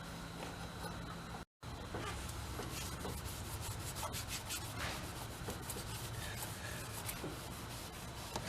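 Steady abrasive scrubbing on the rusty door hinges of a 1974 VW Thing, a continuous close rasping rub that runs without pause apart from one brief break.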